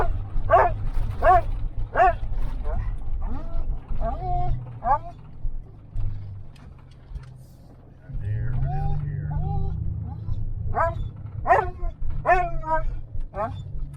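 A dog at a lake lets out a run of sharp barks and higher yips, some close together and some spaced apart, over a steady low engine rumble while a person talks nearby.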